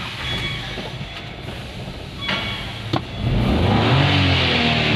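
Renault Triber engine cranking and starting, a faint background hum, a short clack, then the engine catching and settling into a louder, steady running rumble nearby.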